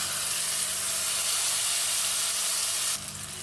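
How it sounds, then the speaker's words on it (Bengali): A little water from a rinsed bowl goes into a hot pan of fried potatoes and spice paste for a vegetarian banana-flower dish, making a loud, steady sizzling hiss that drops off abruptly near the end. "বাটি ধুয়ে সামান্য একটু জল দিয়ে দিলাম"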